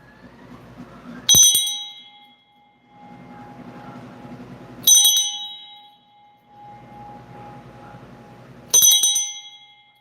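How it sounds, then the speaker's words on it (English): A small metal bell rings three times at regular intervals, each strike sharp and bright with a ringing decay, separated by quieter stretches of faint background noise. "I'm going to ring this bell 3 times."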